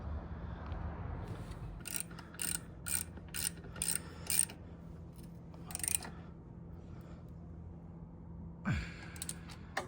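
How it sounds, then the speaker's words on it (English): A 7/8 socket on a ratchet tightens a power steering valve in a series of quick, crisp clicking runs, close and fairly quiet, with pauses between bursts. "we'll zap this back down with a 7/8 socket"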